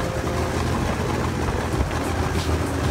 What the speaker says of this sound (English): I'm gonna show you the engine running right here.